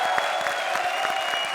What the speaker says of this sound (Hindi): लेडीज एंड जेंटलमैन, जोरदार तालियां एक बार फिर हमारी सारी जोड़ियों के लिए।